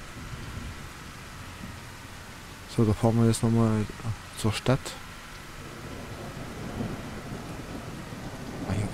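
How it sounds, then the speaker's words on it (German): Rain hisses steadily in a video game survival world while a sharp burst of crackling thunder rolls through mid-clip; someone speaks briefly over the storm. "Das Gewitter ist noch da, Regen"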